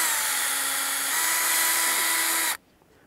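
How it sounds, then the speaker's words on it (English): A power drill bores through the plastic cap of a sap-collecting bag, a loud steady whine held for about two and a half seconds before it stops abruptly, with no talking. "Drill a hole right in there for the spout to get through."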